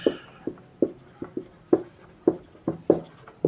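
Pen strokes writing out a physics solution on refraction of light, a series of short close scratches and taps in an uneven rhythm, about a dozen marks, without talk.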